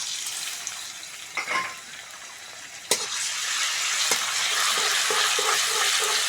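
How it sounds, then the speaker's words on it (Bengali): Garlic paste frying in mustard oil in a wok gives a steady broadband sizzle, broken by a few sharp stirring knocks and scrapes, with the hiss growing denser and more even toward the end. "কড়ার মধ্যে সরষের তেল দিয়ে দেবো। প্রথমেই দিয়ে দেবো রসুন বাটা"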